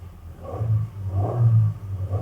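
A 2018 Suzuki Mega Carry 1.5 pickup idles with a steady low engine rumble, close by, rising slightly in a few soft swells of revving with no one speaking.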